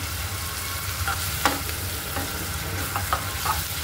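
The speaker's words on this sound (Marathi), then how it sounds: "आपल्याला आपला हा मसाला खूप चांगला भाजायचा" Masala paste with a little coriander leaf roasting in a pan for dum aloo, a steady sizzle under frequent scraping strokes of a spatula and a few light taps, close and without talking.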